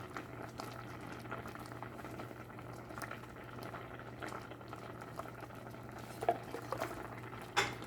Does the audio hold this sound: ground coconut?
yes